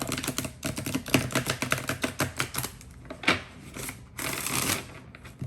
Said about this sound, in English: I'm going to go ahead and give these a good shuffle